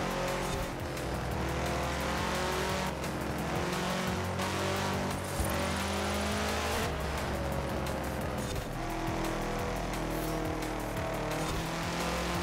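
In a snowy Forza Horizon 4 race, a Subaru's engine revs hard and steadily for the whole stretch, loud and continuous with shifting pitch and occasional tire noise.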